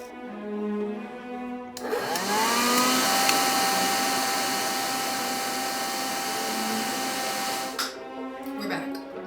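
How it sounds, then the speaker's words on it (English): A steady, loud motor whir from a hood hair dryer starts after a brief murmur of voices and runs evenly for several seconds before cutting off. "Let's go sit under my hair dryer"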